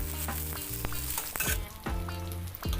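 Small shrimp and chopped garlic sizzle steadily in a pan, with repeated scraping stirs of a spatula cutting through the frying.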